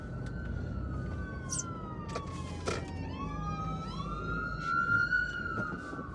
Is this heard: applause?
no